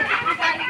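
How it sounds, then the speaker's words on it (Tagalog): A chicken clucks twice in quick succession, close and fairly loud, with no other sounds around it. "Pati manok, pati manok."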